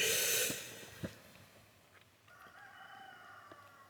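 Chickens in a pen give a loud, brief burst of commotion at the start, then a few crowing and clucking calls from a rooster and hens carry on at a moderate distance.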